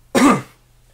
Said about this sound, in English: if I can stop coughing for a second